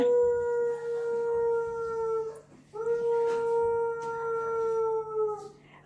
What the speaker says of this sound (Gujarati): હસ્કીનો અવાજ છે આ એ ભસે નહીં એ આવી રીતના સાઉન્ડ કરે